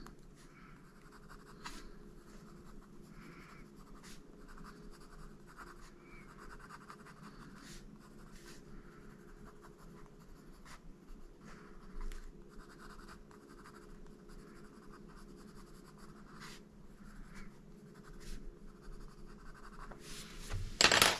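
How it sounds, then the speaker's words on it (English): A dark brown colored pencil scratches softly across paper while shading a tulip, with faint repeated strokes in a steady rhythm over quiet room noise and a louder rustle at the end. "And then to add the 5th pencil, again a dark brown to create some more shadows."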